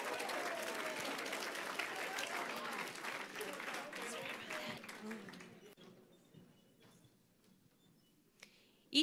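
A school crowd at a senior awards chapel gives sustained applause for graduates that fades out over several seconds, leaving a quiet room with a few stray claps and clicks.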